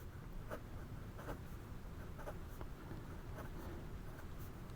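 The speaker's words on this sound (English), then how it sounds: "Just lightly, very quickly, going across the page to see if we get skips or gaps" Light, quick strokes of a Hongdian N2 fountain pen's wet medium #6 nib on Rhodia paper make faint, brushing scratches. They come in short repeated bursts across a page, close to the microphone, with no voices.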